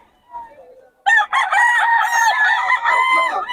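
A Sweater bloodline gamefowl rooster crows loudly and close by after a brief faint murmur, its long drawn-out call filling most of the moment.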